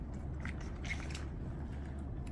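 Close-up crunchy chewing of fresh salad-vegetable kimchi, moist crisp bites repeating in an uneven rhythm, with no talking.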